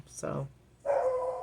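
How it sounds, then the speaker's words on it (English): A neighbor's dog lets out two barking, howl-like calls nearby, one short bark then a longer sustained drawn-out cry, with someone speaking over the sounds. "that's the neighbor's dog"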